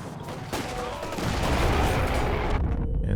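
Machine-gun fire rattles in Company of Heroes 2, rapid dense bursts that build from about half a second in and stay loud and continuous, mixed with other battlefield gunfire.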